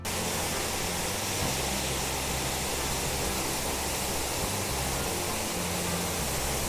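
Continuous rushing water from the Oylat waterfall in Turkey, a steady broadband roar with no breaks, fairly loud and close, no voices.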